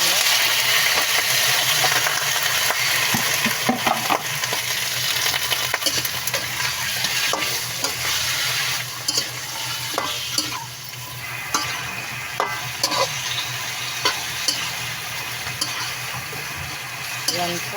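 Onion and ginger sautéing in a pan for Filipino chicken tinola, a steady loud sizzle with occasional clinks and stirring scrapes from a utensil against the pan.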